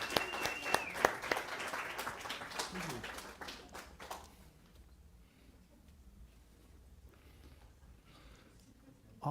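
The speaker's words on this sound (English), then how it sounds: "Let's give them a round of applause." A church congregation applauds new members, a lively burst of clapping with a brief shout that fades out after about four seconds, leaving quiet room sound with a few scattered claps and faint murmurs.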